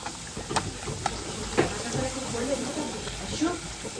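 Puris deep-fry in hot oil on a fast flame, giving a steady, moderately loud hiss and sizzle with occasional pops and bubbling.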